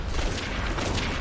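Rapid machine gun fire in the video game Avatar Star, a dense continuous burst of loud shots with no pause.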